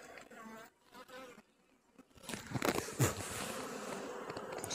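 Honey bees buzz around an opened backyard beehive with brood and honey frames, a soft busy hum that swells louder partway through, close by, with a person talking faintly at the start.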